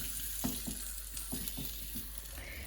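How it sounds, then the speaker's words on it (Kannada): Mushrooms and capsicum sautéing in oil in a pan give a soft, steady sizzle, broken by several light stirring knocks at an uneven pace. "ಕ್ಯಾಪ್ಸಿಕಮ್ ಕಟ್ ಮಾಡಿ ಸಾಟೆ ಮಾಡ್ಕೋತೀನಿ"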